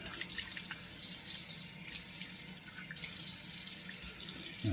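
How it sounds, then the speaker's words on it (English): Cold water runs from a tap in quiet bursts, splashing into a sink with short pauses between the flows, for wet shaving. "I'm going to put 2 splashes of cold water on."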